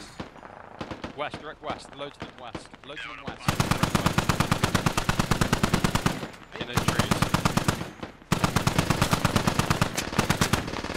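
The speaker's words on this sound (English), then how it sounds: "The Dishka has found things to shoot." Bursts of DShK heavy machine gun fire in a military video game, loud and rapid, one long sustained volley followed by two more after brief pauses, with a voice calling out directions at the start.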